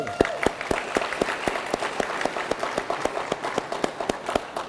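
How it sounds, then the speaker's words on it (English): Audience applause at an event announcing federal funding for The Hope Center: a moderately close, rhythmic run of distinct claps that holds steady for several seconds, with no talk. "Let's give him a round of applause."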